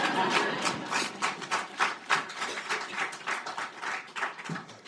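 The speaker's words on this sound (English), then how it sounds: "you can clap that up" An audience at a talk on homeownership and black neighborhoods bursts into quiet, steady clapping, with many overlapping hand claps forming a dense, evenly sustained round of applause that carries on throughout.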